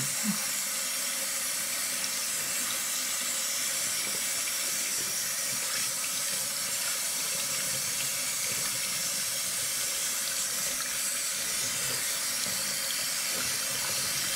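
Tap water runs steadily into a sink while hands are washed, a constant close hiss and splash with no pauses throughout.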